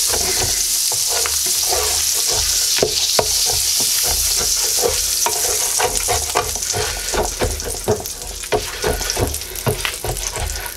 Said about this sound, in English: we'll scrape up the brown stuff at the bottom of the pan